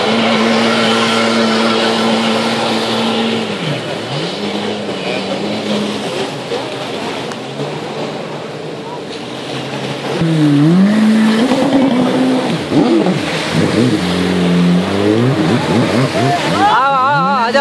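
A car engine revs up and down in rising and falling sweeps, with tires squealing and skidding at close range, while people shout directions over it.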